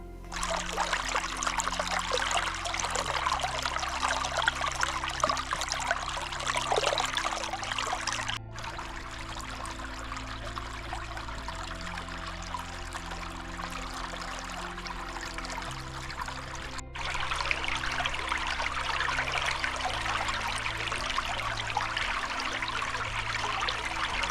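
Water trickles and pours steadily in a wild forest setting, a continuous close splashing flow with a few brief dips in level, no talk over it.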